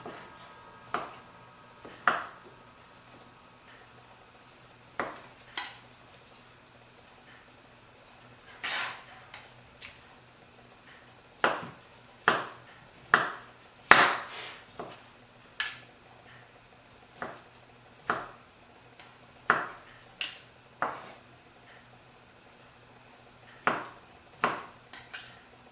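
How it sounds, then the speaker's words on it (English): A knife taps against a pan while slicing leftover meatballs, a long series of faint, irregular metallic clicks and knocks with quiet gaps between them. "So I'll take my meatballs out of the sauce and I'll slice them up."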